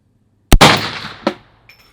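A .450 Bushmaster AR rifle fires at an outdoor range: one sharp, loud, close blast rings out of silence, then a shorter, fainter report follows under a second later as the sound decays.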